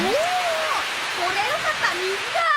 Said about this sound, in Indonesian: langit pun tiba-tiba mendung dan langsung berubah jadi hujan deras